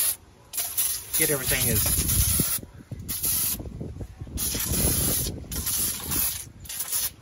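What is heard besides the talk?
power washer spraying to degrease a 1970 Porsche 911E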